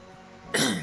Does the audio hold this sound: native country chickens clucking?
no